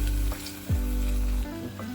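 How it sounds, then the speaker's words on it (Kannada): Close-up sizzling of ingredients frying in oil for sambar, a steady crackling hiss over a low hum, with a brief stir or scrape partway through. "ಅದು ಸ್ವಲ್ಪ ಎಲ್ಲ ಎಣ್ಣೆಯಲ್ಲಿ ಬೇಯಲಿ"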